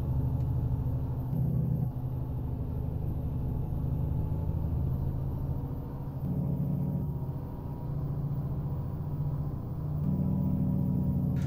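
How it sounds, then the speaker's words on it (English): A steady, deep truck engine rumble from American Truck Simulator, a Cummins ISX-15 in a Mack Anthem, drones continuously, swelling slightly at intervals as if throttling, with no voices. "what I am currently using in engine-wise is a Cummins ISX-15"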